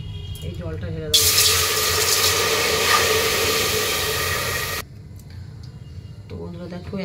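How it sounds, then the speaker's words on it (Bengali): Water poured into a hot pan of nearly fried, crackling lentils, a loud steady rushing hiss lasting several seconds and then stopping, with talk before and after. "এই জলটা ঢেলে দেবো।"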